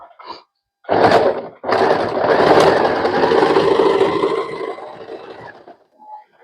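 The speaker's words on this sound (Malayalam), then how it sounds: "നമുക്കൊന്ന് സ്റ്റിച്ച് ചെയ്ത് നോക്കാം." Sewing machine stitching with the F stitch foot of a multifunctional foot kit on a Fashion Maker machine, a near, loud whirring run of several seconds after a brief thunk, then stopping.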